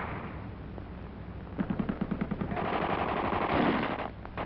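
Soldiers open fire in a rapid burst of about a dozen evenly spaced shots that resembles a machine gun. The burst is followed by a rumbling wash of gunfire over a noisy, muffled background, and no one speaks.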